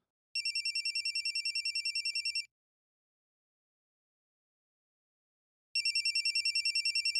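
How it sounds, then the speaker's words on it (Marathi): A mobile phone rings indoors in a Marathi TV drama scene, a steady electronic ringtone repeating in quick pulses for about two seconds, then silence, then ringing again near the end, with no talk over it. "तुझा फोन वाजतोय आणि तुलाच माहित नाही"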